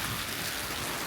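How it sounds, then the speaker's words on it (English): Heavy rain pours down in a dense, steady hiss that never lets up, loud and close, with no voices. "it's downpouring"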